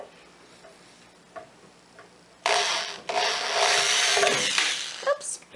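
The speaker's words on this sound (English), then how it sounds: "he just kind of pushes the drill or the screwdriver bit into the wood to give it a little" A drill or screwdriver bit is pressed and turned into a piece of wood for a handmade soap mold. A few faint ticks come first, then a louder grinding, scraping burst lasts several seconds before it trails off with small knocks.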